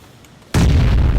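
Gunfire in the PUBG Battlegrounds game: after half a second of quiet, a sudden loud close burst of shots or a heavy blast erupts and its roar carries on to the end.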